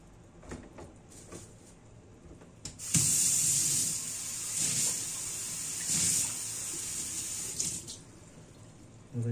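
Water from a tap rushes into a cooking pot of stuffed peppers in a home kitchen, a loud steady gush lasting several seconds after a few quieter clinks, then cutting off.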